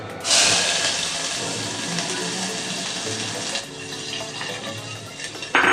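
Bay leaf, cinnamon and cloves dropped into hot oil for a mutton rassa, with onion to follow, set off a loud steady crackling sizzle that holds close and bright throughout with slight shifts as they are stirred.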